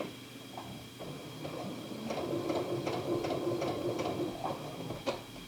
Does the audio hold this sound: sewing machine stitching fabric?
yes